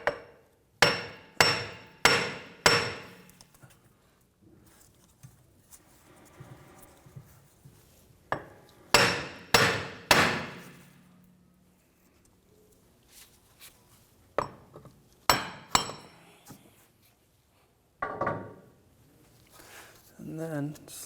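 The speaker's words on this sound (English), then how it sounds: "Sometimes you need a couple of taps with a hammer or a screwdriver to pry it." A hammer taps the brake shoe and backing plate while a rear wheel bearing and hub assembly comes off a 2011-2015 Chevrolet Cruze: loud sharp metallic strikes in quick bursts of three or four, separated by quieter pauses with faint shop noise.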